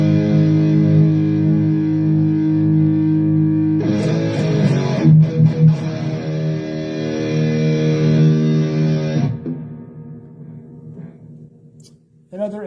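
Distorted electric guitar through a Donner Arena2000 multi-effects pedal with its noise gate on, loud sustained chords that swell midway, then cut off cleanly into near silence once the playing stops.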